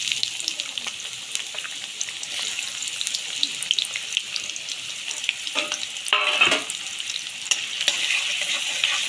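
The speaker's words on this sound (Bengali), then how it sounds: "তেল গরম হয়ে গেছে বন্ধুরা, পেঁয়াজ কুচি দিয়ে দেবো।" Chopped onion hits hot oil in a kadai, giving a steady bright sizzle with a louder burst midway as more goes in, close and continuous with no talk.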